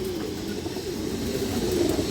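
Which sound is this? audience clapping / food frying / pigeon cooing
pigeon cooing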